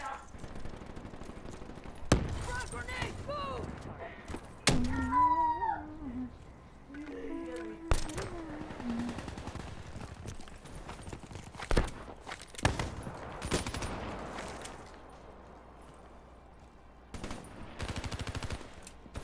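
Rapid automatic gunfire in Call of Duty Black Ops III, several sharp bursts spaced through the stretch under quieter game sounds and a talking voice.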